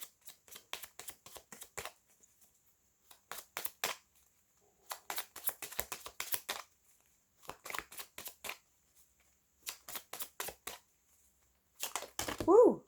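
Tarot cards shuffled by hand in several quick riffling bursts separated by short pauses, close and fairly quiet, with a brief voice at the very end.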